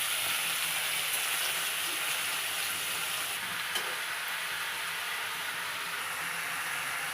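Eggplant frying in hot oil for home-made masala baingan, giving a steady, loud, even sizzle throughout with a faint stir near the middle.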